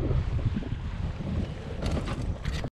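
Strong wind buffets an inflatable fishing boat at sea off Malaysia, a loud, steady rumbling roar of gusts and water noise close to the microphone before cutting off abruptly.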